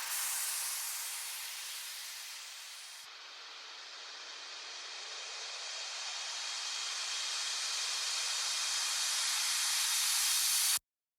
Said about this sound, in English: And for the build up, some longer sweeps.